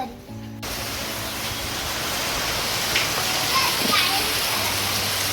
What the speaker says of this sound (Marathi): मंडळी पाऊस बघा थांबतच नाही.